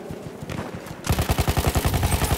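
Rapid gunfire from a sniper-heavy firefight in the World War I shooter Battlefield 1, with loud, dense volleys of overlapping shots that begin faintly and then erupt into a steady, fast, punchy barrage.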